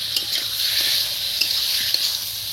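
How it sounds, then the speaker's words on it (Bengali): Elephant foot yam being stirred with spices in a pan for oler dalna: a continuous sizzle and hiss with soft scraping strokes and occasional light knocks of the spoon, fairly close, with no talking. "আর এই মশলার সাথে এটাকে ভালো করে নেড়ে চেড়ে নেবেন।"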